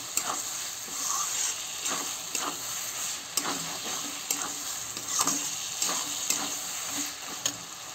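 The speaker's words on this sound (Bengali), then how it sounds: "টমাটারটা একটু লাড়ি ছেড়ে পাতাকপি ঢেলে দেবো।" Shredded cabbage and tomato fry in a pan for a chana dal dish, giving a continuous sizzle broken by regular scraping stirs and light clacks of the spatula, close and fairly loud with no talk.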